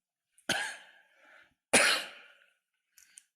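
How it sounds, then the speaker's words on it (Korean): Two loud, harsh coughs from a person during a church evening prayer service, spaced about a second apart in an otherwise quiet room, followed by a faint brief throat sound. "기침하는 것 때문에 너무 염려하지 마십시오."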